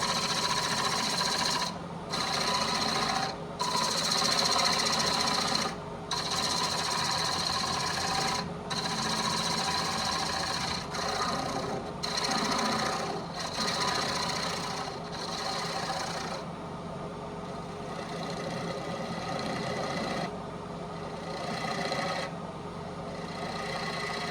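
A steady, continuous mechanical whir of a wood lathe turning a bowl, with a gouge making gentle scraping passes against the flexing wood, briefly interrupted by short gaps; loud and close throughout.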